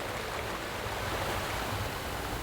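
River flowing along the Porter Brook trail in Upper Whiteley Woods, Sheffield, a steady, dense rushing wash of water with no breaks or other sounds.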